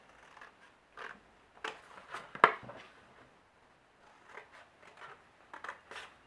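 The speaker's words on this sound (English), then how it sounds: "we'll cut the first score line right up to the top score line, and just continue with the other 3 score lines, and just cut them out." Scissors snip through scored card stock while a small gift box is cut out, making a series of quiet, crisp, separate cuts spaced across the moment with no talking.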